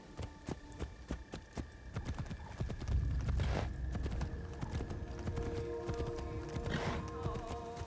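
Hoofbeats of a horse galloping in Assassin's Creed Shadows, a steady clip-clop rhythm running throughout with occasional whinnies, mixed with game music and ambient sound.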